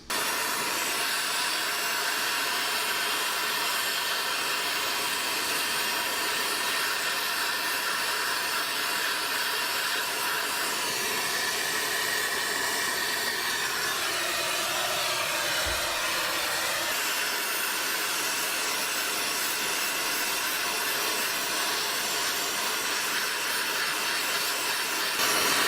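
A propane torch roars in a steady, loud hiss for nearly half a minute while heating a stuck nut clamped in vise grips on a 1984 Dodge Ram D100 pickup, with a brief change in tone midway.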